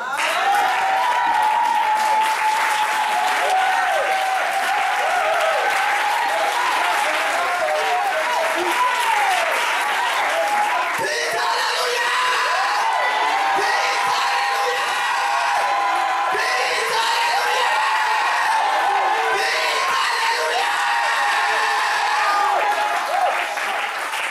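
A church congregation applauds and cheers for the Lord in a long, loud wave of clapping mixed with whoops and shouts, sustained throughout, with a voice now and then rising above the crowd.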